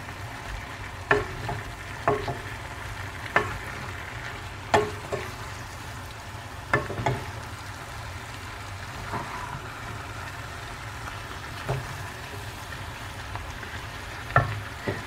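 Vegetables for a cottage pie filling fry in a pan with a soft, continuous sizzle, punctuated by regular clacks and scrapes of a spoon stirring against the pan, close by with no talking.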